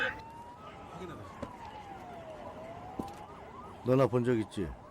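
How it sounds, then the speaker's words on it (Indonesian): Police sirens wailing in a film scene as officers arrive, a rising and falling tone sweeping across the clip, moderately loud, with a brief voice cutting in near the end. "Tak lama kemudian, kepolisian berdatangan ke tempat Jason."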